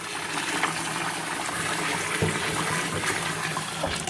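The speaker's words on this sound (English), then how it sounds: "What you do is you put enough water in there so that the salt it dissolves." Water poured by hand into a container of cleaned sea salt to dissolve it, a steady, fairly loud gushing and splashing pour that runs the whole few seconds with no talking.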